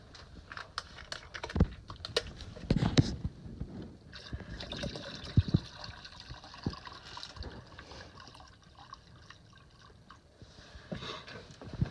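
RV antifreeze pours from a cut-open plastic jug while winterizing a Winnebago Travato G, a quiet liquid stream with faint splashes and a few handling knocks, close and soft, no talk.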